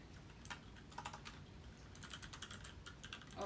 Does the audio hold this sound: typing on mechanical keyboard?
yes